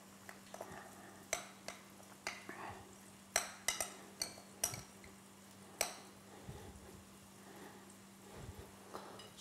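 Stuffing being mixed in a bowl, with a series of sharp clinks and taps of utensil against the bowl over a steady low hum, fairly quiet and spaced irregularly.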